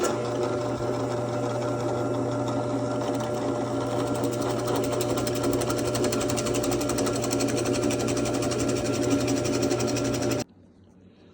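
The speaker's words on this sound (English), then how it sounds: "So we're just going to drill an 11/16 hole through this thing." A power drill boring an 11/16 hole through wood with a fluted bit gives a steady, high-pitched motor whine running continuously for about ten seconds, then cuts off abruptly into near silence.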